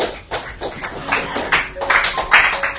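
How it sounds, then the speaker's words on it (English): Churchgoers clap briefly for a speaker during a sermon, a short patter of close hand claps with uneven rhythm. "Let's clap for him."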